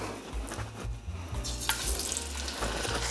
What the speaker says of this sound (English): He's gonna sear this first in a hot pan with oil just to like get it brown